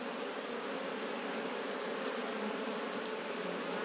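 Honey bees buzz densely and continuously at an opened production hive during treatment, a close, even hum with no talking.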